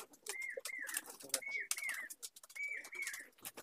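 Andhra pigeon chicks coo and call in a repeated series of short, rising-then-falling notes, close by and fairly quiet, with rustling around them.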